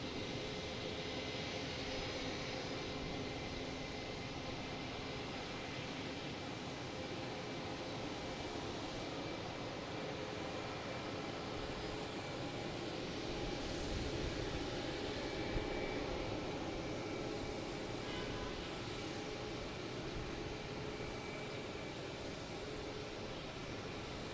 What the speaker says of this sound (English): that Delta heading to Orlando is going. So that's taking off now.